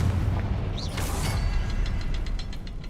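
A Confringo fire spell in Hogwarts Legacy bursts with a deep, booming explosion, followed by crackling debris and a series of rhythmic metallic ticks.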